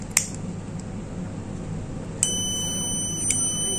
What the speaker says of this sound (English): You can observe the buzzer and exhaust fan had activated.